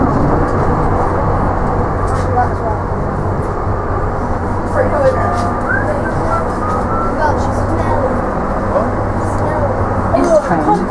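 Docklands Light Railway train riding toward Canary Wharf, a steady loud rumble of wheels and motor inside the carriage, with faint rattles and squeals throughout and a voice briefly audible.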